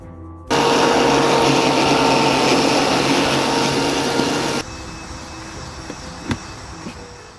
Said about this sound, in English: The dethatcher is basically like a power rake.